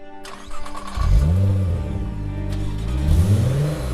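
A fast sports car's engine revs hard as it accelerates, its pitch sweeping upward through two climbing pulls. The roar is loud and close, heard alone with no talking.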